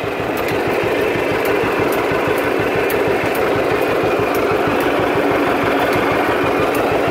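A John Deere model 60 tractor engine running steadily nearby, with a loud, even, fast-chugging two-cylinder throb and no talk over it.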